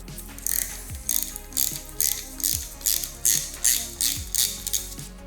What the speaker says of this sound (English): I ended up using a T-bar on it because it was extremely stiff.